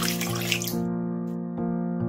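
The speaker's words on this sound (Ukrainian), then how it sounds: "Додаю 375 мл води кімнатної температури." 375 ml of room-temperature water is poured onto pieces of Levito Madre sourdough starter, making a close, steady trickle with a ringing, resonant tone and a few brief splashes.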